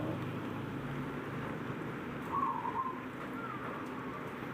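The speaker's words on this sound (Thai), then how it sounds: "เสียงของนกเขาค่ะ จะร้องอยู่ตลอดนะคะ" Soft, low dove cooing repeats faintly in the distance over steady outdoor background noise, with a brief brighter call near the middle.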